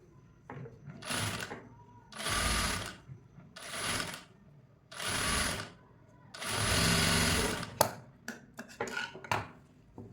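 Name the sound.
sewing machine stitching a blouse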